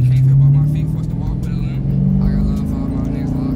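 A Dodge Challenger with paddle shifters pulls away from a stop in first gear, its engine a loud, close, low drone that rises steadily in pitch as it accelerates, heard from inside the car.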